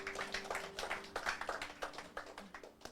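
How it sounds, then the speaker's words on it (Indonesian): A worship congregation gives quiet, rhythmic clapping, a soft run of evenly spaced hand claps heard at a distance in a subdued room. "Berikan tepuk tangan bagi Tuhan kita."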